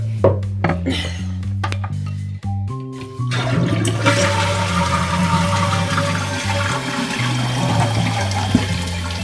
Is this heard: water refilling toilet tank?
yes